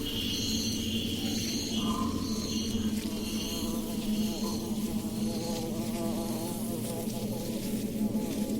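A dense, steady drone of buzzing insects, flies and wasps hovers close by, their wings whining at varying pitches as some pass nearer, with no voices.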